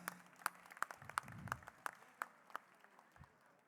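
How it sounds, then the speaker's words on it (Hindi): Sparse audience applause after a speech at the World Kayasth Conference, a handful of slow, evenly spaced claps sounding faint and somewhat distant in a quiet hall. "तो इनके लिए एक बार ज़ोरदार तालियां।"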